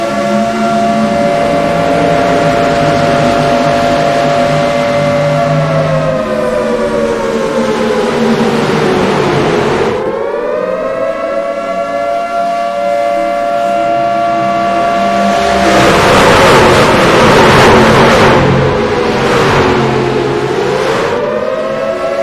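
Race cars roar around Daytona in the iRacing game, a loud layered engine drone rising and falling in pitch as the pack passes and shifts, with a brief dip before a dense surge of several cars together.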